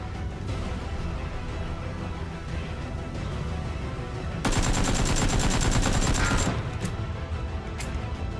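Automatic gunfire in PlayerUnknown's Battlegrounds, a sustained burst of rapid shots lasting about two seconds over steady game ambience, loud and close, followed by a couple of fainter isolated reports.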